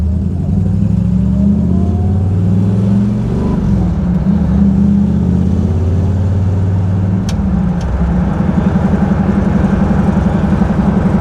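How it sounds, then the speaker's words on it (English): A 1962 Chrysler's 440 V8 with Sonoramic long-ram dual carburetors idles with a steady, loud rumble, then swells into throaty revs with a deep, continuous exhaust drone close by. No one speaks. "this is a Sonoramic long rams, dual carb, and it's a 440"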